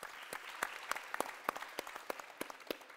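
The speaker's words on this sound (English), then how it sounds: "Please give him a round of applause." Audience applause with sharp, irregular claps standing out from a steady patter, moderately loud and close, no talking.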